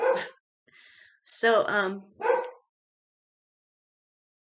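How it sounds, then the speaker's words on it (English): A dog barks a few times in short bursts, mixed in with a person talking nearby. "Excuse my dog barking in the background."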